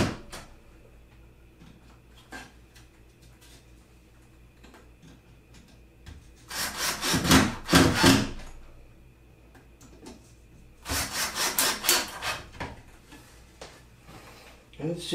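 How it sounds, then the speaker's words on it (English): Pallet wood for a wall cabinet is hand-sanded with sandpaper in two bursts of rough, scratchy rubbing strokes, close and fairly loud, separated by quieter shop background. "A little bit of sandpaper will fix any slight discrepancies."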